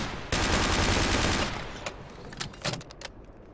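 Gunfire in the military shooter Project Reality, a sustained loud automatic burst up close, then a scatter of sharper distant shots and clanks trailing off, with no talk.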